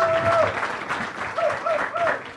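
Audience at a television school evening event clapping, a dense steady round of applause filling the room at moderate level with a few faint voices mixed in.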